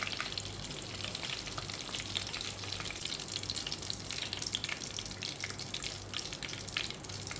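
Chicken pieces wrapped in pandan leaves fry in hot oil with a dense, steady sizzle and crackle that runs unbroken and close throughout, with no talking.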